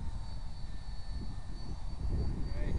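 A Concept X PRO EDF model jet comes in to land after a high-speed stall, its ducted fan giving a steady, fairly loud rushing whine that swells slightly toward the end, with no voices over it.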